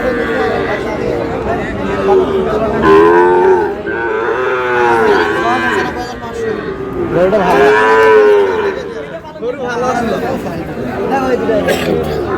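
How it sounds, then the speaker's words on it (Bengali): Sahiwal cattle and bulls lowing at a busy livestock market in Noakhali, several drawn-out moos close by that rise and fall over chatter and people talking. "শাহিওয়ালের ষাঁড়।"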